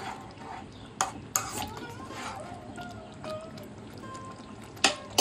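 A spoonful of ghee goes into a pan of spinach chicken curry (palong chicken), bringing a few sharp metallic spoon clinks against the pot amid soft stirring and a quiet background.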